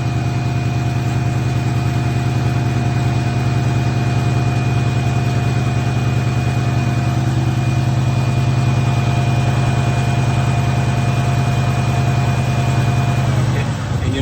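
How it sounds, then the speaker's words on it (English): Secondary air pump on a 2001 Cadillac DeVille whining steadily over the idling engine, a constant close drone that cuts off near the end. "little whining noise. That's our air pump."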